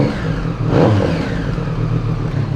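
A Triumph Street Triple 765R with an SC Project exhaust and the dB killer fitted runs near idle. The steady, loud, close engine throb has one brief blip of revs near the start.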